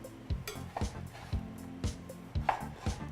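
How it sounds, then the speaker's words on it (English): A knife rocks through a tomato on a cutting board as it is diced, giving a steady series of sharp, close taps about every half second. "See how he rocks the knife when he cuts that tomato?"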